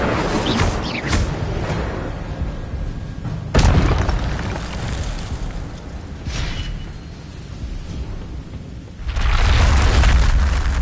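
Fire spell cast in the Hogwarts Legacy video game, with heavy booming bursts and roaring whooshes rising and falling over about ten seconds, loud and close, with no talk.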